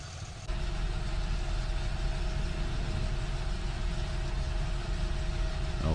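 A Fendt Vario 700 tractor engine starts up in a farming game mod, then settles into a steady, loud idle that drones evenly and unbroken for several seconds.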